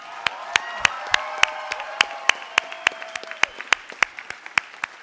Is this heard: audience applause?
yes